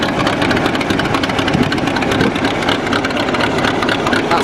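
An old hand-started Ford vintage tractor engine idles at a ploughing competition, a loud, steady mechanical chug with an even rhythm and no speech over it.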